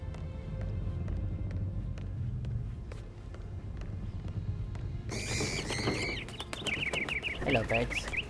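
Birds cluck and squawk in the Hitman 3 video game. A burst of clucking and chirping cuts in over low game ambience and runs on in busy, overlapping calls near the end.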